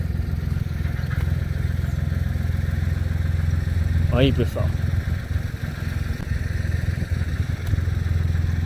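A New Holland tractor pulling a feed wagon runs on a dairy farm, its engine a steady mid-pitched drone throughout, with a brief clatter and someone speaking briefly partway through.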